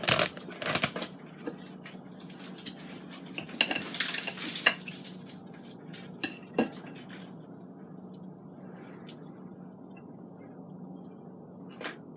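Knife and fork cutting through a strip steak cooked from frozen in an air fryer, scraping and clinking against a plate in close, busy bursts early on, then softer scattered taps and scrapes.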